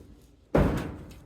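A green drawer slides and bangs shut once, a single close thud with a short fading rumble after it.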